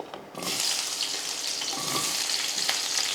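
Two large onions hit a pan of hot oil after a quiet moment, then a steady close sizzle with a few light scrapes from stirring, no talking.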